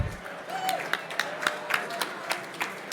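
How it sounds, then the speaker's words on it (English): Scattered audience applause at an awards gala, a soft, steady patter of many hands with a few sharper claps rising out of the crowd noise. "A round of applause, please"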